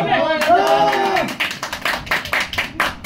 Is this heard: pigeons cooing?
no